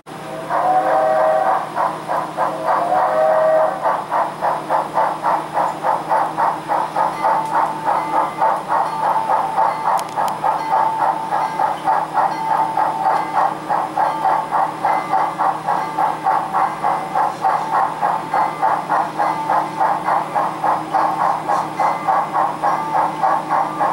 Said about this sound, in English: Now, we'll stop the train here.